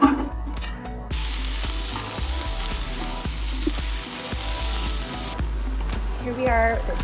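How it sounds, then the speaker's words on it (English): Onion sizzling loudly as it sautés in one big pot for white chicken chili, a steady frying hiss with occasional stirring knocks and clatters throughout. "Go ahead and add your onion into it."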